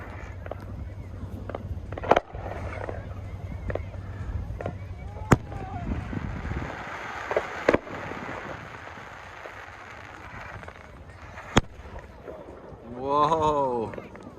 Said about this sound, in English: High level Alberta Christmas fireworks.